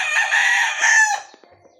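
A fighting gamecock rooster crows once, loud and close, a single long harsh call lasting about a second before cutting off, followed by faint soft ticks in near silence.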